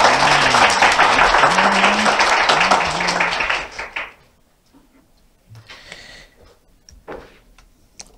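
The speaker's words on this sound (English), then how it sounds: "Please welcome him with a big round of applause." Forum audience at the KOFIH Global Health Forum applauding a speaker, a loud dense round of clapping that fades out after about four seconds, leaving a few scattered claps and quiet room noise.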